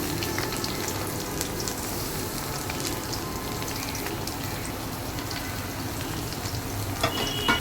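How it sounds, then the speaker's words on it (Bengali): Chopped onion and a little garlic frying with bay leaf in mustard oil in a wok, a dense continuous crackling sizzle like steady rain, close and even, with a few scrapes near the end. "এবার এগুলোকে একটু ভেজে ভেজে নিতে হবে যতক্ষণ পর্যন্ত একটু সুন্দর ফ্লেভার বের না হয়"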